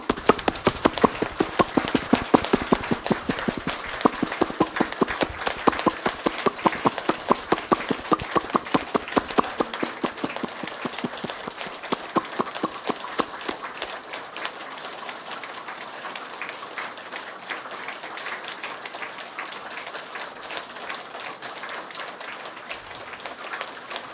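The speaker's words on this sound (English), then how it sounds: "Clap your hands. Keep going." A group at a meditation and yoga practice session claps hands in a fast, steady rhythm, loud and sustained at first, then gradually softening and thinning out toward the end.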